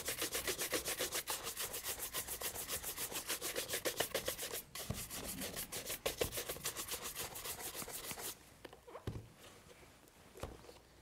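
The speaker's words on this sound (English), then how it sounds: "whenever you're buffing off a polish, you want to use fast, brisk motion because it's that friction and heat that's going to help elevate the shine." A horsehair brush buffs wax shoe polish on a leather shoe with fast, brisk, rhythmic back-and-forth strokes, close and steady for about eight seconds, then slowing to a few softer scrapes.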